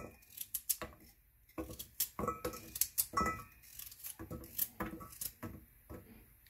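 A knife chops carrots in half on a cutting board, giving a close, uneven run of sharp cuts and knocks with brief pauses between strokes.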